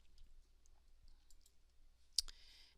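A single mouse click on a computer text field, sharp and brief near the end of a long quiet stretch, faint and close.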